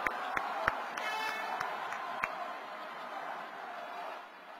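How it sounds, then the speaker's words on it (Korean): Audience applause at a Grand National Party (Hannara) leadership candidates' rally in Korea: a dense, steady wash of clapping from a large crowd with a few sharp claps standing out, holding for several seconds before thinning slightly at the end. "열렬한 박수로 맞이해 주시기 바랍니다"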